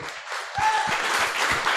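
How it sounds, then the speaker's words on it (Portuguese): A church congregation applauding steadily during a Sunday evening service, dense clapping that swells after a brief quieter start, with a faint whistle-like tone briefly audible. "Vamos aplaudir ao Senhor."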